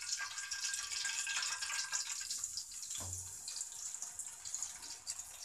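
Ground neem leaf paste hits hot oil in a pan, producing a bright continuous hissing sizzle close by, with a brief low thump partway through as it is stirred.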